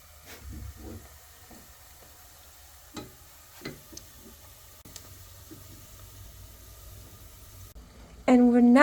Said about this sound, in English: Now they are simmering.